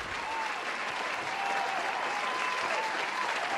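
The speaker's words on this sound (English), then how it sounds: "I can hear you over the claps" Sustained audience applause fills the room at an entertainment panel event, a dense even clapping that holds steady throughout with a few faint voices mixed in.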